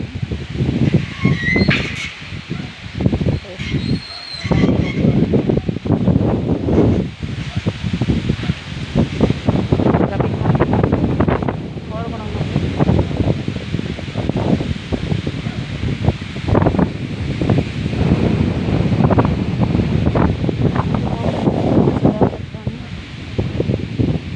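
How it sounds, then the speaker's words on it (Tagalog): Strong wind gusts roar and buffet steadily throughout, with leaves rustling and occasional faint voices underneath. "Hangin kayo guys. Mahangin."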